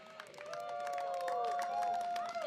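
A Singapore Democratic Party election rally crowd at Choa Chu Kang Stadium during GE2025 keeps up a loud, continuous cheer over two and a half seconds, with sustained horn or whistle tones sounding over scattered claps and shouts.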